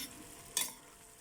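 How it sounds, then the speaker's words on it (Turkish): Common mallow (ebegümeci) sautés in a pan with a quiet, steady sizzle and one quick scrape of a stir, heard close and alone. "kömecimi bir karıştıracağım."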